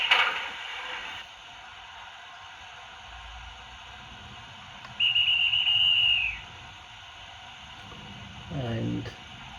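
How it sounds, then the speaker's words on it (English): A railway guard's whistle gives one shrill, steady blast lasting just over a second, fairly clear above a faint hiss, with brief murmuring sounds before and after it. "guard's whistle"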